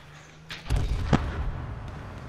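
A few gunshots in the video game H1Z1, sharp cracks followed by a heavy booming thud and rumbling echo, moderately loud with brief distant pops after.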